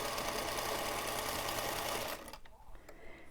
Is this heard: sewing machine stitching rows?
yes